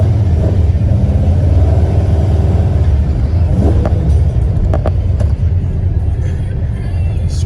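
Volkswagen with a manual transmission cruising at a car show in Chino, California, heard from inside: a loud, steady low engine rumble and road noise throughout, with a few faint clicks and thumps over it.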